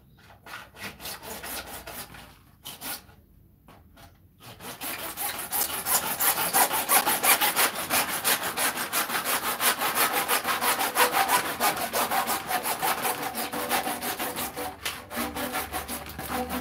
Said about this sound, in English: Better at cutting PVC pipes